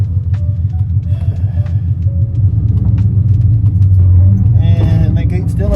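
A daily-driven drift car rolls along the road with a loud, steady low engine and road rumble that swells slightly partway through, and a few faint clicks sit over it, with no clear talk.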